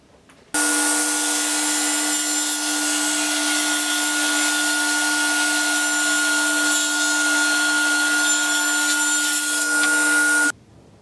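Bandsaw cutting small triangular wooden gussets for bracing, running as one loud steady whine with a constant tone for about ten seconds, starting and stopping abruptly, with no talking.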